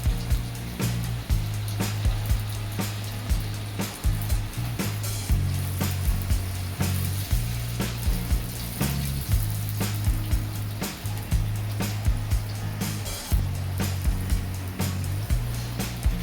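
Karanji pastries dropped two at a time into hot oil in a wok fry with a loud, constant sizzle and crackle, with rhythmic bubbling pulses over a low steady hum and no talking.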